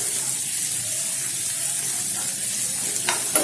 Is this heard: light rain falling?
no